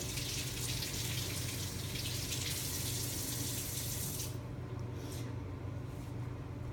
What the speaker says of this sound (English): So I'm just gonna quickly wash these strawberries so they're really clean.